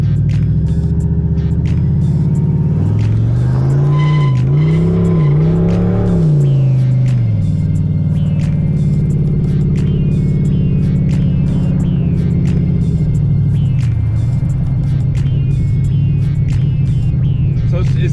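Turbocharged SN95 Mustang engine idling and held near 2300 RPM, a loud steady low rumble with a brief rise and wobble in pitch before settling back, continuous throughout.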